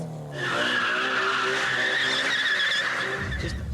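A modified car skids through a stunt at a night-time car cruise, a loud continuous tyre squeal with a sustained engine roar lasting about three seconds before dropping off abruptly.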